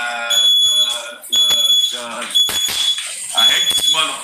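Shrill high-pitched reverse alarm from a small device, beeping in repeated bursts while someone talks loudly over it.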